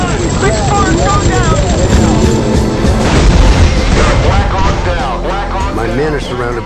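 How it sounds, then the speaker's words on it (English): An RPG explosion in GTA San Andreas Multiplayer, set in a Black Hawk Down scenario, booms loudly amid dense combat noise with helicopter-like drone and other crashes, while voices shout over the chaos. "RPG! Hold on! Big fire, go down!"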